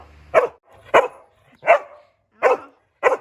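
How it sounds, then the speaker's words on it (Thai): A dog barks during blow-drying after a bath, five loud close barks in an even rhythm of about one every half second, with a brief fan or dryer hum at the start. "ห้ามเห่าเดี๋ยวได้ออกแล้ว"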